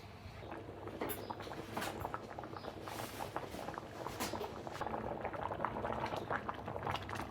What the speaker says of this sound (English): Bring the broth to a high boil.